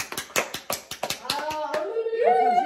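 A handful of people clap for about two seconds in a short, uneven burst after a blind tasting contest, then a voice begins speaking as the clapping fades.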